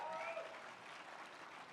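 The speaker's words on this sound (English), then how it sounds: "Let's give them a big round of applause." Audience applause at the 2022 Ski Area COO Summit at Keystone Resort and Conference Center, a steady wash of clapping at moderate distance, with a voice faintly over it.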